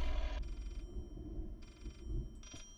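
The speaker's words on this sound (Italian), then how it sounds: "C'è un altro telefono che suona qui." A telephone rings in the horror game Layers of Fear, sounding in two or three bright electronic bursts separated by short pauses, loud and close over a low rumbling background.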